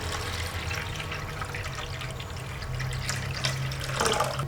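Water is poured steadily into a running Catit Pixi smart cat fountain, a close, continuous splashing and trickling that swells slightly toward the end.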